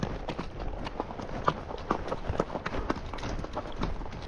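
Horses walking along a canyon ranch road, their hooves clip-clopping in a steady, uneven rhythm of distinct knocks at moderate distance over soft outdoor background noise.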